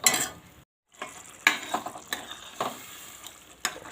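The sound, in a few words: kadai paneer gravy boiling in a pan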